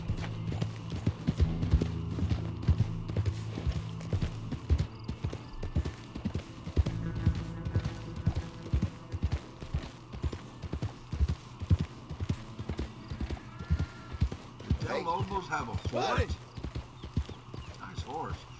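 Horse hooves clip-clop steadily through a Red Dead Redemption 2 desert scene, with a brief whinny, while someone talks over the hoofbeats throughout.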